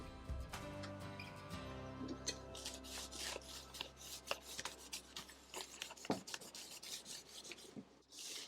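Restore Finish rubbed by hand onto a burned wooden card table, a quiet, close scratchy rasp in irregular strokes, with a few sharper scrapes along the way.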